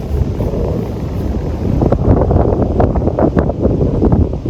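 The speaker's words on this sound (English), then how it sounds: "It's so windy right now." Strong wind on a disc golf course buffets the microphone in a constant loud roaring rumble, with no speech.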